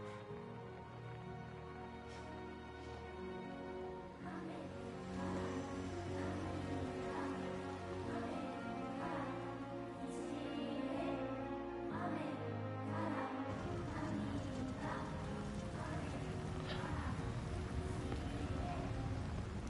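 Steady rain pattering on surfaces with scattered droplet taps, continuous and fairly soft, over a faint low rumble, in the video game Death Stranding 2: On The Beach.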